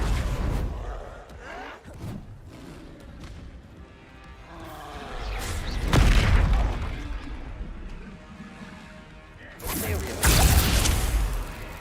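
Bombarda explosion spell in Hogwarts Legacy, heard as heavy blasts and whooshing bursts amid combat noise, with two especially loud impacts a few seconds apart and a voice talking in between.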